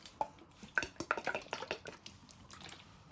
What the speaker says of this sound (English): You want to give this a stir with your whisk